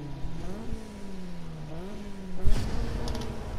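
A car engine revs and shifts at the start of a sprint race in the video game Need for Speed, its pitch climbing and dropping through gears, with a louder burst of engine noise near the end.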